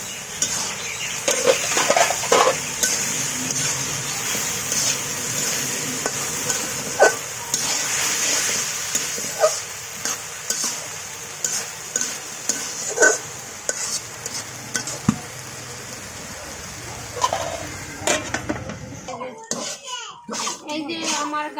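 Potato, carrot and cauliflower frying in a covered pan give a steady low sizzle with utensil clinks and stirring scrapes, and a voice chatters over it until the sound drops away near the end.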